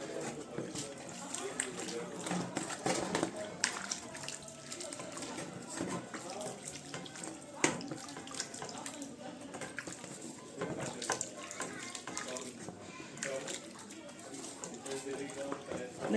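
Water runs and splashes while rokak pastry sheets are wetted on both sides for a rokak tray, with a tap and sink nearby; the splashing is steady and close, with speech over it.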